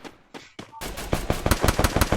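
Rapid automatic gunfire in a video game, starting with a few separated shots and then a steady loud stream of evenly spaced rounds, close and dominant.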